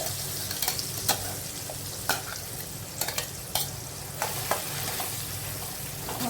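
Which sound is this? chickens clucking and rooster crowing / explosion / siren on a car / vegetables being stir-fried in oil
vegetables being stir-fried in oil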